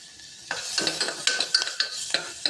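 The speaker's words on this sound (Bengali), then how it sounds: "আমাদের কিচেনের আওয়াজ। এটা যে বাটারটা দিলাম সেটার আওয়াজ।" Butter sizzles in a hot pan in a home kitchen, a soft hiss broken by a run of sharp utensil scrapes and taps as it is stirred.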